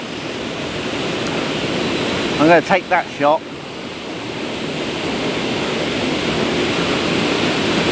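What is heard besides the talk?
waterfall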